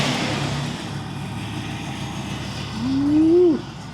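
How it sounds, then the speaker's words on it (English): A Buick engine running roughly with many misfires gives a steady low rumble close by, and a whine rises and swells toward the end. "I'm getting like tons and tons of misfires. It was not running very nicely this morning."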